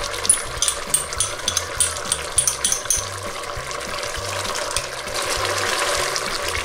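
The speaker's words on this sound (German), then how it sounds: "Und ganz zum Schluss kippen wir mit Wasser auf" Water poured into a pan of lamb bones for a lamb and rosemary sauce, a steady splashing pour that swells louder toward the end, with light clinks early on.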